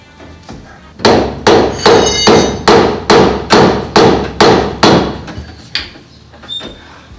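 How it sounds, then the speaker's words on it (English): A hammer knocks on a part of a 2-litre 8-valve VW Mk1 Citi Golf engine during removal, about ten loud, evenly spaced metallic blows struck close by, followed by a few fainter taps. "Knock with the hammer?"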